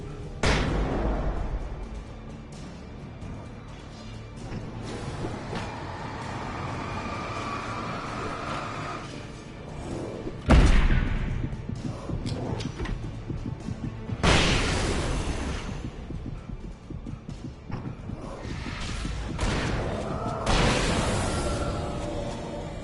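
Several booming flashbang blasts go off in the horror action game Alan Wake Remastered, loud sudden bursts spaced a few seconds apart over dense, rumbling in-game noise.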